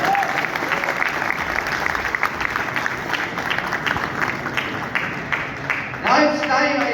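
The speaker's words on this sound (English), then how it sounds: "give me a big round of applause for all my efforts" An indoor audience claps steadily for several seconds at a presentation about Godrej Sora homes in Sector 53, Gurgaon, the applause fairly loud and continuous before a voice cuts in near the end.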